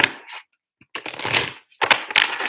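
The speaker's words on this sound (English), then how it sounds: "three shuffles." A deck of cards is shuffled three times at close range, each a quick flurry of riffling, flapping card edges separated by short silences.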